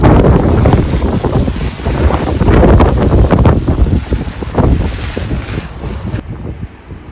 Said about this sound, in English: Now we're just going to water it in.